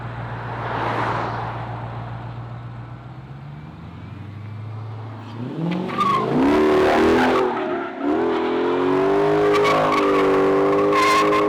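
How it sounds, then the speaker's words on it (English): A manual car doing a tire burnout: the engine idles low and steady at first, then revs hard as the tires squeal loudly and continuously, with the shrieking rising and wavering until the end. "doing a burnout in a manual car"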